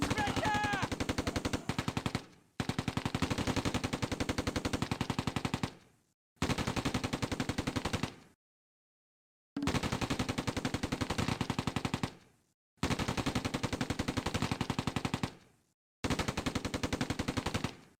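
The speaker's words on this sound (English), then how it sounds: "We're under heavy fire!" Sustained heavy machine-gun fire in a WWII battle game pitting a 17-pounder anti-tank gun against a Mark IV tank, loud rapid bursts of several seconds each separated by short silent gaps, with no talking.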